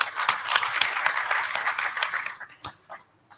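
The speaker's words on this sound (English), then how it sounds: "I think he deserves a hand clap as well." Symposium audience at an African electricity conference clapping for a speaker, a dense round of applause that thins into scattered individual claps and fades near the end.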